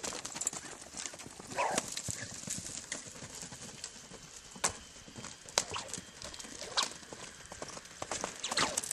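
A horse lopes in a circle during a riding lesson, its hoofbeats thudding in an uneven rhythm at moderate distance, with faint background sounds.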